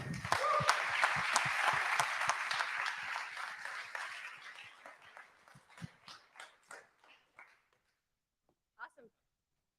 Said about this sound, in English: Can I have a round of applause for our panelists?